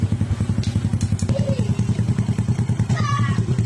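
A Honda XRM 125 motorcycle engine idles close by with a rapid, regular thumping pulse, loud and steady throughout, with faint clatter on top and a loud exhaust.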